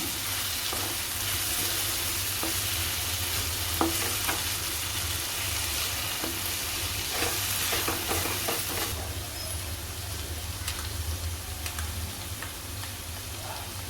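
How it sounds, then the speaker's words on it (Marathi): Capsicum sizzles steadily as it is sautéed in tomato puree in a hot pan for pav bhaji, with occasional clicks and scrapes of stirring throughout. "शिमला मिरची आपल्या प्युरीमध्येच परतायची आहे"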